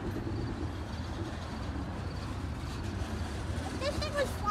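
A slow CSX freight train rolls past close by with a continuous low rumble and rattling of rail cars, a faint squeal near the end, while people talk over it.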